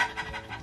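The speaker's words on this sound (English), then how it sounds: "Dog's gonna bark again now." A hot dog pants close by in quick, soft, rhythmic breaths, several short huffs in a quiet room.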